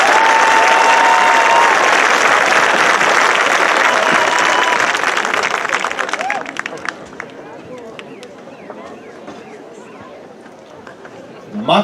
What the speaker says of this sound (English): Another round of applause, please, for these graduates.